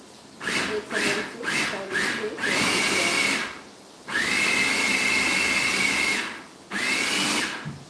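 A food processor mixing butter, cream cheese and powdered sugar, its motor whirring loudly in short pulses and then in longer sustained runs with brief pauses between.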